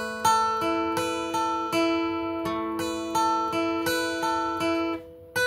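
Electric guitar plays the lead part of a song, ringing picked notes in a steady rhythm over sustained chiming tones, clear and close with no talking.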